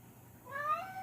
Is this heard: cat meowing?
yes